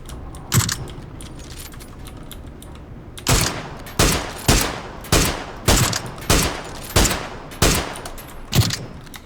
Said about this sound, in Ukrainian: справа хто стріляє. По тобі